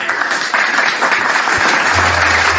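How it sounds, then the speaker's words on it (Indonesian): An indoor audience claps together in steady, dense applause, a continuous close wash of hand claps with no voices over it. "Tepuk tangan dulu."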